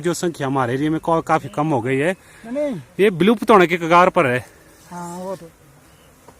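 Apis cerana bees buzz close by with a wavering, droning hum that rises and falls in loud bursts, mixed with a person talking in Hindi, then fades to quiet near the end.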